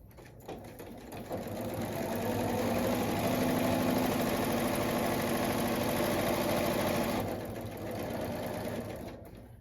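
A sewing machine stitches a quilt block seam at narrow stitch width, running steadily and close for several seconds with a rapid whirring chatter, then easing off near the end.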